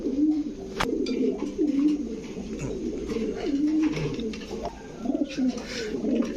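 Repeated low cooing from several caged Teddy, Lahori and Racer pigeons in breeding mode, warbling calls rising and falling continuously, with a brief sharp knock near the start.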